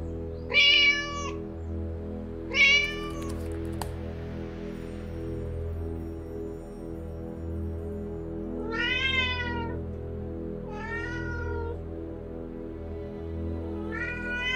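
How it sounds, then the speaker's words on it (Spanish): A cat in the Vertigo video game meows five times in uneven pairs and singles, clear and fairly close over a low ambient hum, with no speech. "El gato quiere comer."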